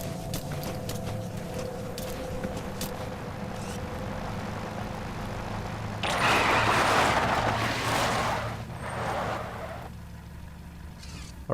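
A vehicle carrying enemy soldiers in Metal Gear Solid V approaches, a low engine rumble under game ambience and footsteps that grows louder and rougher, then eases off near the end, with no talking.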